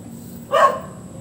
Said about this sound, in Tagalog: May aso sa kapitbahay. Pag nakakita ng tao, kumakahuli.